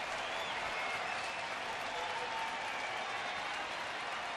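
Steady applause and crowd noise from a baseball stadium during a Cleveland Indians home game against Texas, a continuous wash of clapping and cheering with no break.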